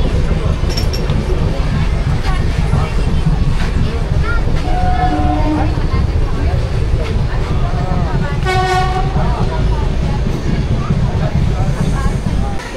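A passenger train stands at Panagarh station's platform 1, its horn tooting in short blasts over constant rumbling engine and platform noise, loud and close, while someone talks throughout.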